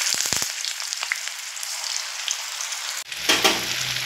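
Peas and chicken pieces frying in hot oil over a medium flame sizzle steadily, with a few light clicks early on, then a brief break and a fresh burst of crackling near the end.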